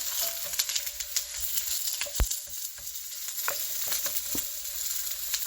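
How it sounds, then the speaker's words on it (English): Onions frying in a pan sizzle steadily as they are turned over, with scraping and a few sharp knocks of a utensil against the pan, close and without talk. "It's time for me to turn these onions over."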